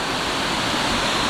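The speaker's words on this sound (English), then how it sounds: "Bonus waterfall on top." A small waterfall in a Barrington Tops forest near the Williams River gives a steady, loud, close rushing wash of falling water with no break over a very short stretch.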